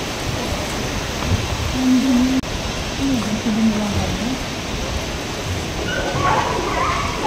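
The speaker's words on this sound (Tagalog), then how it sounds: "Oh, may kain na aso." A dog whimpers and whines in a few drawn-out, wavering cries beside a waterfall in old Tbilisi, half-masked by the steady, loud rush of falling water.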